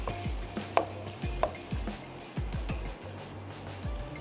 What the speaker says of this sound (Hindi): दही ऐड करते ही इसको अच्छा सा एक मिक्स दे देते हैं।